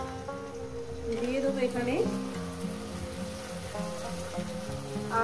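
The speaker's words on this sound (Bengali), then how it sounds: "হলুদের গুঁড়ো, জিরে ধনের গুঁড়ো, সামান্য পরিমাণে একটু জল" Turmeric, cumin and coriander powder with a splash of water hiss and sizzle steadily in a hot pan of oil for fish curry with potato and okra, a continuous frying crackle running under a woman's speech.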